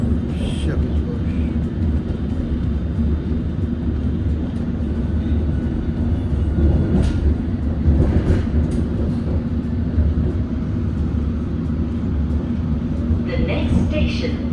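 A London Underground train pulls into Richmond station with a loud, steady rumble of wheels and motors heard from inside the carriage, brief squeals and clatter over it and a voice speaking.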